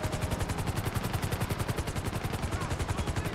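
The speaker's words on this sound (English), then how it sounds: "Shooting the ground." GTA 5 automatic gunfire rattles in a rapid, evenly spaced machine-gun stream for the whole stretch, loud and close with no pauses, and no voices over it.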